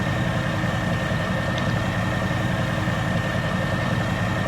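A tractor engine idles at a steady low rumble, close and constant, with no change in pace and no talk over it.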